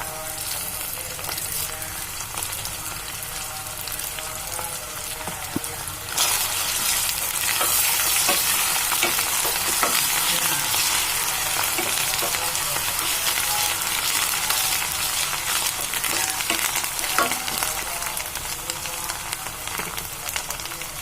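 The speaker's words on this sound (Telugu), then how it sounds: "పచ్చివాసన పోయే వరకు వేయించుకున్నాం. ఇందులో కొద్దిగా కరివేపాకు కూడా వేసుకున్నాము." Onion paste with curry leaves fries in a pan, a loud steady sizzle that swells louder partway through, with occasional stirring scrapes and no voices.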